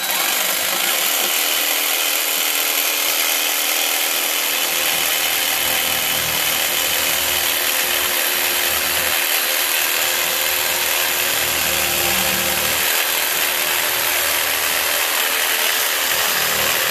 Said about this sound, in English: Take your jigsaw with a long blade, just like that